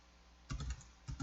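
Keys on a computer keyboard are tapped in two short bursts while entering data into accounting software, crisp and close, with a brief pause between the groups of keystrokes and no one talking.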